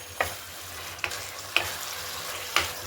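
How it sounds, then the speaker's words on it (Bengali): Fried potatoes tossed into oily, cooked-down spice masala for a Bengali cauliflower paneer dish, with a soft steady sizzle broken by four sharp scrapes of a spoon against the pan, spaced about a second apart. "যখন দেখবেন যে মশলা থেকে তেল ছেড়ে আসে তার উপরে ভেজে রাখা আলুটা দিয়ে দেবো।"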